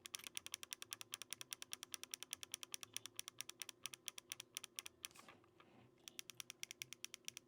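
Rapid, evenly spaced clicks from the buttons and triggers of an AYN Odin 3 handheld gaming console, crisp and close, with a brief pause before the pressing resumes at the same steady pace.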